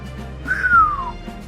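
A young man whistles a single clear, gliding note that slides downward, short and close, set against a low background hum.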